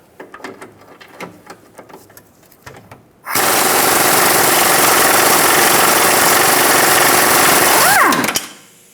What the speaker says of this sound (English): Using a 17mm, we're going to remove the top nut.